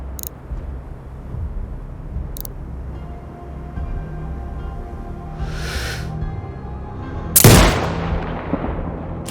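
Sniper rifle fire in the video game Sniper Ghost Warrior Contracts 2, with one loud, sharp shot late in the clip over a steady ambient game background, plus a brief whooshing effect shortly before it.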